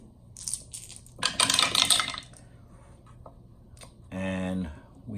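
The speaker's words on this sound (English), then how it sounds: "So we'll roll the dice" Dice rattle and clatter across a surface for a tabletop football game, a few quick bursts of clicking hits, with a person talking in between.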